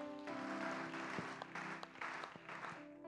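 A church congregation at a worship service claps in applause to acclaim Jesus Christ, a sustained burst of many hands heard faintly at a distance under a hall's tonal hum, with no talking.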